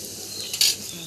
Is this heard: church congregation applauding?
no